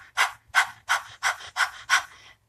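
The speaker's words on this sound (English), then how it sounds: "So in breath of fire, the breath is controlled through activating your diaphragm by pumping the navel, by pumping your abdominals." Rapid breath-of-fire exhalations pumped through the nose by the abdominals, six sharp panting bursts in an even rhythm, close and fairly loud, with no talking.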